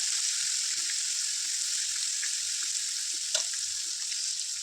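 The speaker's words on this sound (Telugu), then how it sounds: "గ్యాస్ మీడియంలో పెట్టుకొని పీస్ మంచిగా ఫ్రై చేసుకోవాలి" Chicken pieces frying in oil in a pan over medium gas heat, a steady close hiss of sizzling with a faint tap or clink partway through.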